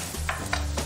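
Batter frying in hot clarified butter in a pan is jabbed and chopped with quick scraping strokes, about three in under a second, over a continuous sizzle.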